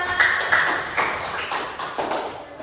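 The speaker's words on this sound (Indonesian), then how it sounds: "tepuk tangan kita semua" Ninth-grade pupils in a classroom clap their hands together in a loose, steady group rhythm, with soft repeated claps at a moderate level and no talk over them.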